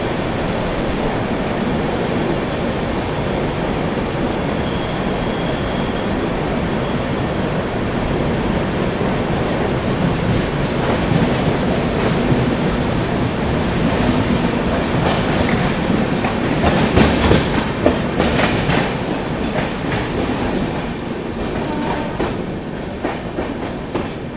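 A train running through a tunnel on the Kasara Ghat section as another train, the Kashi Express, crosses alongside: continuous enclosed roar with rhythmic wheel clatter, swelling louder near the end as the passing train goes by, no voices.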